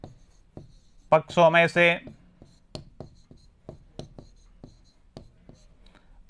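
Pen or marker scratching out a simple linear equation on a board or paper during a Class 7 maths lesson, with soft intermittent strokes and taps before and after a short burst of speech.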